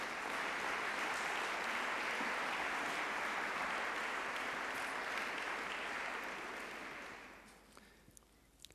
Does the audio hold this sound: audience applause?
yes